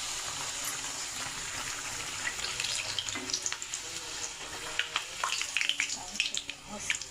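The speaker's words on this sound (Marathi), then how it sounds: "आता मी तळून घेणार आहे." Puris frying in hot oil, a close, bubbling sizzle that grows busier and crackles with sharp pops toward the end, with a voice talking over it at times.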